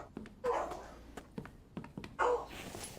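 Dogs bark indoors at something outside, with two loud bursts of barking and several shorter yips and thumps in between, fairly close and without talk.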